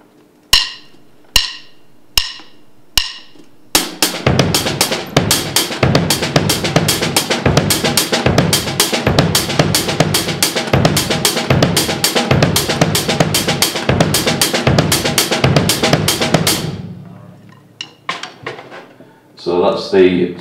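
A drum groove on a kit starts with a few separate hits, then settles into a steady, busy pattern of hi-hats with quiet ghost notes on the snare, played close and loud for about thirteen seconds before stopping.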